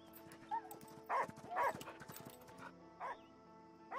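A dog in the video game Last Day of June gives short whimpering yelps in a few separate bursts, moderately loud over a quiet game background with light tapping.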